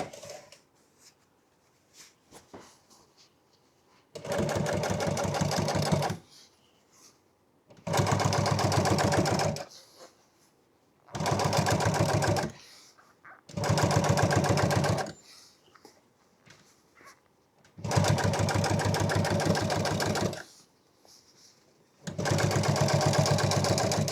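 A sewing machine top-stitches truck seat upholstery in six loud, steady bursts of about two seconds each, separated by short quiet pauses.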